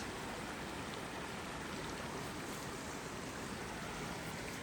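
Creek water flowing right beside a backpacking campsite, a steady broadband rush with no breaks, fairly soft and continuous throughout with nothing else standing out.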